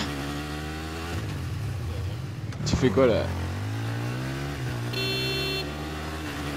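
A motorcycle engine in the video game Battlefield 3 drones steadily underneath, mostly masked by close voices of players chatting in French over it.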